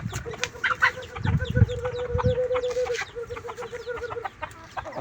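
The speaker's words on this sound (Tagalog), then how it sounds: "Meron pang tandang doon sa kabila." Chickens cluck busily on a farm while a rooster calls. The birds are close and fairly loud, with bursts of clucking and short calls spread across the whole stretch, and no voices.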